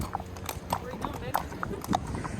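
Horses ridden toward the beach on Amelia Island, Florida, with clear rhythmic clip-clop of hooves at a walking pace, close and moderately loud, while people talk over it.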